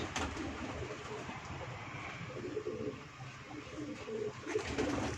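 Pigeons coo softly on a rooftop loft in Dhoriya, low murmuring calls repeating under a steady background hum and scattered rustling, with a voice speaking faintly in places.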